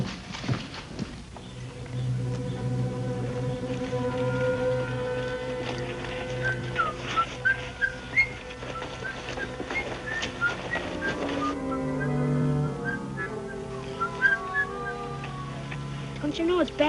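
Someone whistles a melody in short phrases in a ghost town over background music, with occasional clopping horse hoofbeats.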